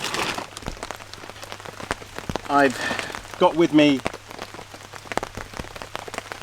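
Rain has just started falling in a dark forest, scattered drops tapping and crackling on leaves and a tarp around a steady soft patter, while someone speaks briefly in the middle.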